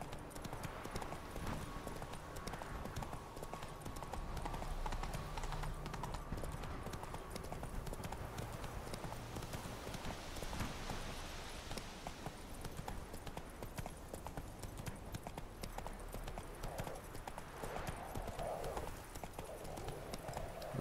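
Roach, Geralt's horse in The Witcher 3: Wild Hunt, clip-clops steadily at a walk, with the hoofbeats near and continuous over ambient game sounds and background music.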